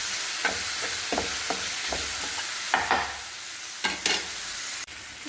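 Mackerel (bangude) fish frying on a flat tawa, giving a steady close sizzle broken by several sharper scraping and stirring hits spread through the clip. No voices.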